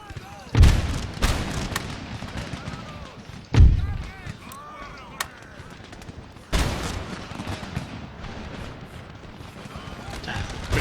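Musket volleys strike grenadiers in Empire Total War, sounding as several sharp, loud crackling fusillades at uneven intervals over constant battlefield rumble, while someone speaks now and then.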